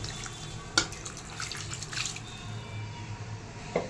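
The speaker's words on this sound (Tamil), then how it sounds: "இப்போ கொஞ்சமாக தண்ணி ஊற்றிக்கலாம்." A small amount of water is poured into simmering mutton pepper chops gravy in a pan, giving a steady, soft splashing and trickling wash with a couple of sharper drips, close by and without talk.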